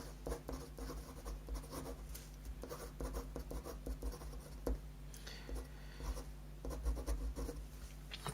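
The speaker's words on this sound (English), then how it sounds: "Let me write that word again." A word is handwritten with a pen during an anatomy practical on transudate and exudate, giving faint, close scratchy strokes in short bursts over a quiet room hum.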